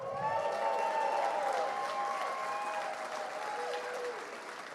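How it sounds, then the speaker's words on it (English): A large audience at an inaugural night gathering of Realtor leaders applauds steadily, a dense, sustained wash of clapping heard from within the crowd. "Please give these outstanding leaders, as well as all Realtor leaders who invest in RPAC each year, another round of applause"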